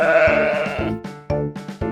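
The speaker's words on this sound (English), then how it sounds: "This is a sheep." A sheep bleats in a long wavering cry, followed by several shorter, repeated bleats, close and clear with no other sounds.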